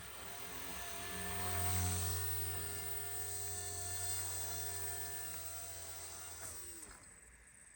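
A Blade Revolution 90 micro RC helicopter whines steadily indoors during landing, its rotor and motor pitch gently wavering before the tone drops and winds down as it settles, with no talking.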